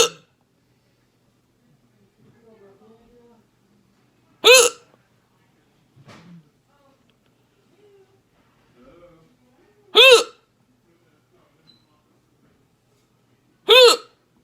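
A person in an emergency room hiccups loudly three times at spaced intervals, each a sharp, close, voiced burst, with faint breathing and small movements between them.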